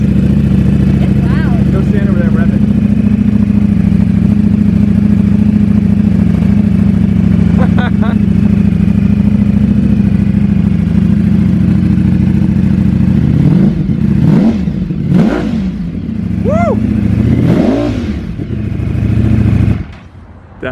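A 2020 Ducati Streetfighter idles loudly close by, then its exhaust revs in several sharp rising and falling bursts near the end, with people talking over the engine.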